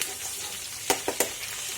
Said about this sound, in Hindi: अब इसमें डाल रही हूँ मैं ये जिंजर गार्लिक पेस्ट।